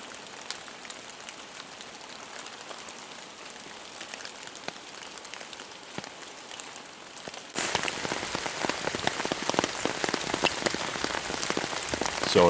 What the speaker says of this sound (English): So it's raining nasty.